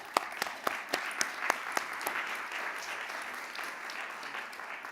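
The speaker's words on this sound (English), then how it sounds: "Round of applause for Sophie." Audience at a live main stage event applauding a guest named Sophie as she comes on stage; a few sharp distinct claps up front blend into a steady wash of applause that holds evenly.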